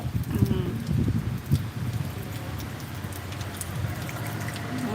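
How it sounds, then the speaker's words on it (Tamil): Rain falls with gusting wind in a village during Cyclone Fengal, making a steady outdoor wash with scattered drips and patters, and low rumbling noise that rises and falls throughout. "நல்லா மழை பெஞ்சிட்ருக்கு காற்று எப்படி அடிக்குது பாரு"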